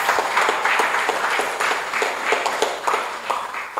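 An audience at a public health forum claps to welcome a speaker, with rhythmic clapping and applause swelling in regular surges, fairly close and loud, without clear talk.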